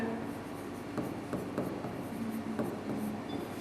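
Chalk or marker writing on a board during a math lesson, soft scratchy strokes with a few sharper taps, faint and close, over a quiet room hum.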